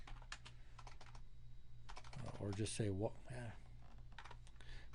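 Typing on a computer keyboard, a quick run of clicky keystrokes in short bursts, briefly interrupted by a person speaking, then the tapping resumes.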